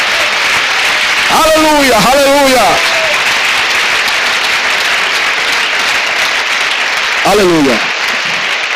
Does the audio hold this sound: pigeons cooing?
no